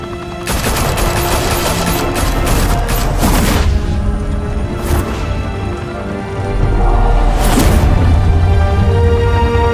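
Rapid bursts of automatic gunfire and heavy booms ring out in the Batman Telltale series video game, loud volleys clustered near the start and again later amid a rumbling backdrop.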